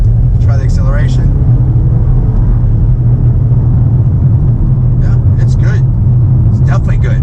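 A 2017 Mercedes-Benz E300 accelerating: a steady low engine and road rumble from inside the cabin, constant and fairly loud, with brief speech over it.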